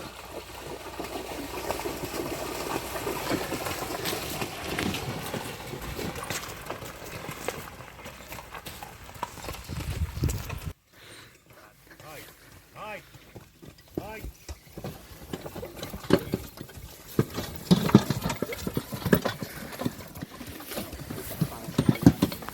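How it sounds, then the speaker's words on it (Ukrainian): Hooves of two mares clip-clop unevenly on a hard surface with faint trickling water nearby, the sound dropping away briefly before returning. "Кобили вже на території у рибців."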